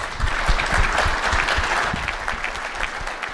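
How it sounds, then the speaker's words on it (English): Audience at a conference panel session gives a short burst of steady, even clapping that continues throughout without speech. "Please join me to give them a big round of applause."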